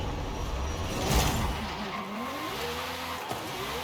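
A historic Ferrari slides and skids in Forza Horizon 5, with a steady engine drone and a sweeping tire squeal that swells mid-run and fades, the car sound continuous and close throughout.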